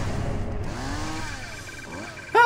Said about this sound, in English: Chainsaw sounds actually fucking amazing.